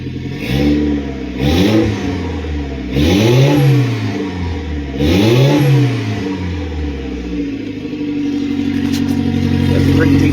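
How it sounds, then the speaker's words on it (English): Revving bursts from a Mitsubishi Pajero Mini Turbo fitted with a custom turbo tube muffler custom exhaust: three loud swells rise and fall in quick succession, then the engine settles into a deep, steady idle, heard up close. "Give it a few revs."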